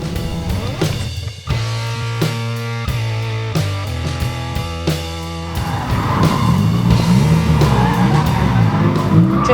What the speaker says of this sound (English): Drifting is the art of controlling an out-of-control vehicle